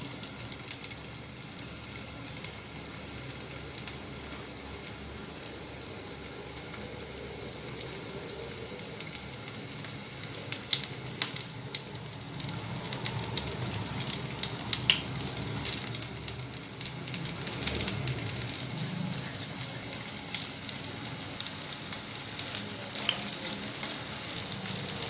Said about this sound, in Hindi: कबाब देखिए बिल्कुल नहीं चिपक रहे और इजीली देखिए फ्राई हो रहे हैं